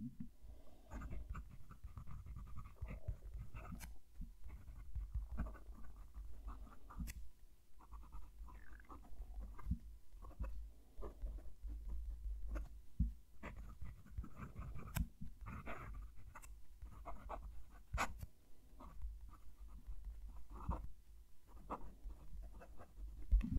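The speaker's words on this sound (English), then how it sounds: "Going to move the mic down to the page so you can hear the pen write." A Natami Inception fountain pen scratches across paper, picked up by a nearby microphone, with soft rhythmic strokes and small taps that continue throughout and stay quiet over low background rumble.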